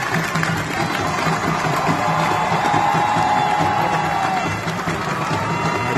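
A large crowd cheers and roars continuously at the Royal Edinburgh Military Tattoo, a dense wash of voices with scattered shouts and light clapping, steady and loud throughout.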